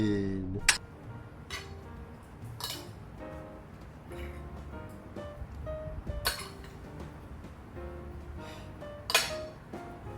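Cutlery clinks and scrapes against a dish as food is mixed together, with sharp metallic taps standing out over a steady background of talk and table noise.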